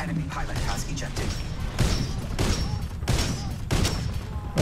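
Gunfire from an enemy pilot in an air combat video game, bursts of shots crackling at a steady rhythm under a constant roar, with a voice talking over it.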